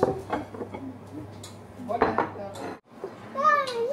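Plates and dishes clink and knock together as a family sets out tableware before a meal at home. Children's voices chatter over the handling.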